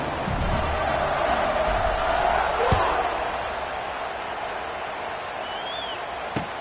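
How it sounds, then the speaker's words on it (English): Football stadium crowd buzzing after a touchdown, a broad, steady roar that swells slightly then eases, heard under a commentator's voice. "this crowd is buzzing after that last score"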